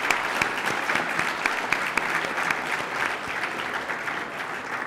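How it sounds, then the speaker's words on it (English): An audience at an evening honours event applauds steadily, dense sustained clapping from a large crowd heard at a moderate distance with no speech. "ask for a round of applause for all the people that were honored here tonight"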